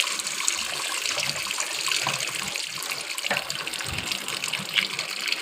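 Tap water pours steadily over cut potatoes being washed, a continuous close splashing stream with small irregular spatters throughout.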